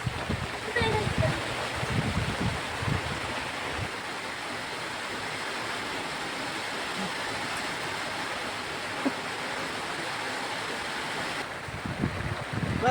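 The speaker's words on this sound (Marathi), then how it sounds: "किती जोरात पाऊस चालू झालाय" Heavy rain pours down outdoors in a dense, continuous hiss that stays loud and steady throughout, with a voice speaking over it now and then.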